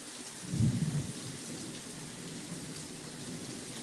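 A thunderstorm brings a deep rumble of thunder early on, and steady heavy rain hisses beneath it and on afterward.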